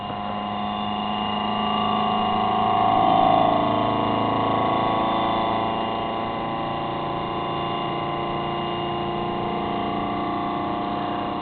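A Bedini SSG motor wheel spinning up to speed, giving a steady electrical whine with layered humming tones that swell briefly early on and then settle into a constant drone.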